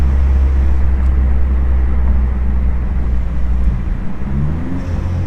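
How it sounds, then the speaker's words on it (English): A Ford Mustang EcoBoost with an aftermarket exhaust drones steadily while coasting with no throttle, and an automatic downshift near the end brings a brief shift in engine pitch. The sound is loud and close, with no talk. "There's one downshift without even doing anything."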